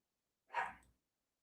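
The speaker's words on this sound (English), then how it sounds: "stop all that barking" A single sharp dog bark, close and fairly loud, standing alone in an otherwise silent moment.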